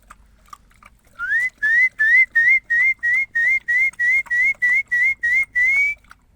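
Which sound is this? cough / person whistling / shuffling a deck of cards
person whistling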